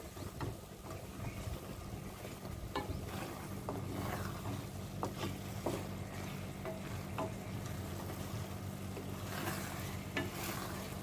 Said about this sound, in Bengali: একটু শুকনো শুকনো করে মেখে নেব, ভেজে নেব